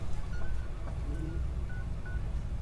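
A cell phone number being dialed, with faint, evenly spaced keypad tones over a steady low background hum, no voices.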